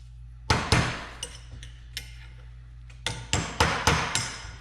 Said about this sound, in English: I always like coming back with a screwdriver and hitting it in a couple spots just to be sure that it seats all the way properly